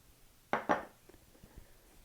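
Two quick, bright clinks of a utensil against a bowl while flour seasoned with garlic powder, smoked paprika and onion powder is mixed, followed by a few faint, soft scrapes.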